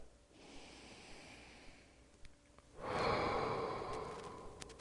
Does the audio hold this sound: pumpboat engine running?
no